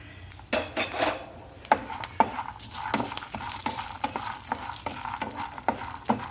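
Green chillies and garlic frying in a pan: a soft background sizzle punctuated by frequent sharp clinks and scrapes of a utensil against the pan, close and fairly quiet, with no voices.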